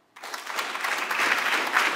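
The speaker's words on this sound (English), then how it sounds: "So let's give it up for Cormac." Applause from a crowd at a startup pitch showcase bursts in suddenly and continues steadily, a dense wash of clapping that holds without fading.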